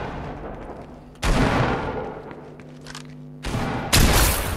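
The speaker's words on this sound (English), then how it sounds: "I quickly go to the head and shoot like this" Gunshots from the video game Fortnite, two sharp loud volleys of rapid fire, one at about a second in and another longer burst near the end, separated by quieter game ambience.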